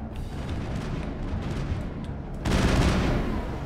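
Muffled gunfire and booms rumble through a Mass Effect Andromeda combat scene, steady and mid-distance, with a louder burst toward the end.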